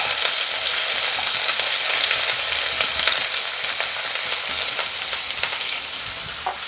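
Chopped onion fries in hot oil with mustard seeds, giving a steady, bright sizzle with faint crackles and occasional stirring scrapes, close and continuous with no talking.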